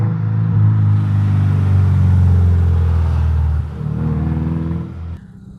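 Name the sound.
Subaru car engine revving with loud modified exhaust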